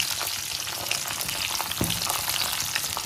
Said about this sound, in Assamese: এতিয়া মই বাদামখিনি ভাজি ল'ম বুটত দিবৰ কাৰণে একেখিনি তেলতে